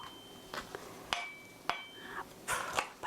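Knife strokes julienning vegetables on a cutting board for mushroom japchae land as a few sharp, separate chops close by, spaced irregularly with short scraping sounds between.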